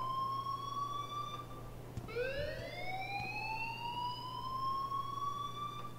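An alarm in the video game Life is Strange sounds as a steady, piercing siren-like wail that breaks off briefly and restarts with a rising sweep, continuous and loud over a low hum, with no talk.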